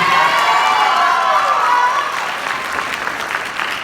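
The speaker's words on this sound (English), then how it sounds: "Let's give a round of applause for Madison" Audience applause with some cheering for a marching band's color guard instructor at a concert, loud and dense at first, easing slightly toward the end.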